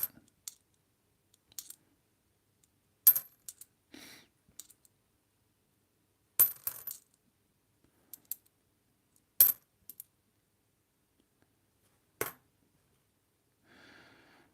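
Two-cent coins handled during a coin search, heard as scattered sharp metallic clinks and clicks, some in small clusters, close but fairly quiet against near silence, with faint breathing and no talking.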